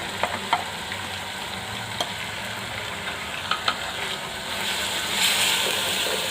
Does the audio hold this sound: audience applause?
no